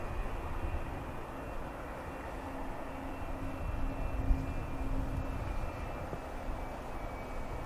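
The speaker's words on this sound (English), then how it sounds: "TUI on a short final now." A TUI airliner on short final at Manchester Airport hums faintly in the distance, a low, soft engine drone with a thin steady whine that swells slightly midway and continues alone.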